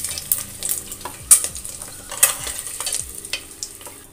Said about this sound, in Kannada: ಹೀಗೇ ಫ್ರೈ ಮಾಡ್ಕೋಬೇಕು ಮೊಟ್ಟೆನ